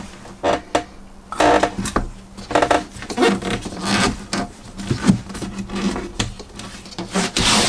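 An RV window sliding open in a 2018 Chateau 24F motorhome gives off a series of rubbing, scraping and rasping sounds in short bursts, up close and fairly loud, with no talking.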